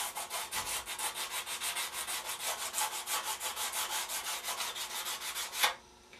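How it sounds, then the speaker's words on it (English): Rough sandpaper rubs briskly across a surface in quick, even back-and-forth strokes, a steady rhythmic scratch of about two or three passes per second, close and alone, stopping abruptly near the end. "Just get yourself a piece of rough sandpaper, and all we're going to do is just take off some of the sheen here, which will roughen it up."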